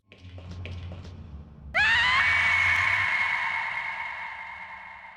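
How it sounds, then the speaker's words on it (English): A female character's death scream from the early PS1 survival horror game Overblood: a sudden, loud, shrill wail that starts midway and holds for several seconds, unsettling and banshee-like, after quieter low game ambience. "Millie is like PIPO with her death scream, more unsettling than funny"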